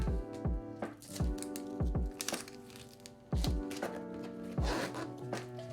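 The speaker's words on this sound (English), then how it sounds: "Get a part flat and tape it down." Packing tape pulled and pressed down onto a flattened cardboard box being prepared to ship artwork, with a series of sharp tearing rips and thumps spaced irregularly, close and fairly loud, no talking.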